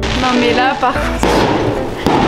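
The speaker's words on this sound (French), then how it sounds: "ils adorent les feux d'artifice" Fireworks in Bali go off in loud thumping bangs and crackles, layered with a bright whistling tone, close and continuous, while people talk faintly underneath.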